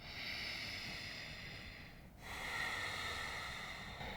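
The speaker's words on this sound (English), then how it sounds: "take nice deep breaths in" Slow, deep breathing during a calming yoga hip stretch, with a long breath in, a short pause, then another drawn-out breath, close and soft.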